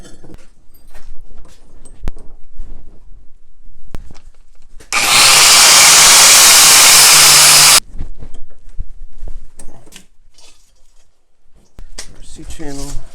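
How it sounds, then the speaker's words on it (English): A power tool saws through threaded rod for a DIY no-weld blacksmith forge build, one loud continuous cutting burst of about three seconds, with someone talking before and after it. "next we're gonna cut some threaded rod and some C-channel"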